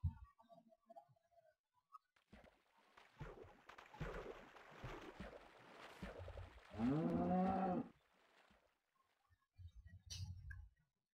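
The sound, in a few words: cow mooing in Minecraft video game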